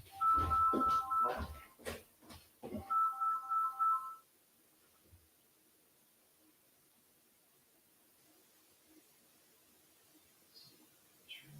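A mobile phone ringtone from an incoming spam call plays in two clear bursts of a repeating electronic melody, then gives way to near silence with faint room noise.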